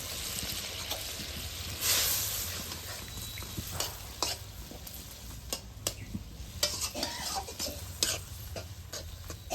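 Taro stems sautéed in a pot, with broth being added, give off a steady close sizzle broken by repeated stirring scrapes and clinks, and a brief louder splash or hiss near the start.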